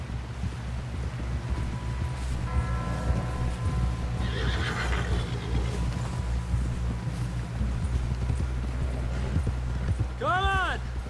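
Hooves clip-clop steadily from horses being ridden in Red Dead Redemption 2, under continuous character dialogue, with a loud, close whinny near the end.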